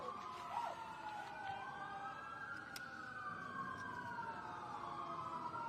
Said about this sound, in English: Yes, sirens.